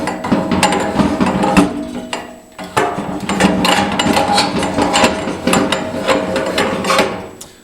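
The handle on a Nortrac snowblower turns with a rapid ratcheting clicking, close and steady, with a short pause midway before the clicking resumes.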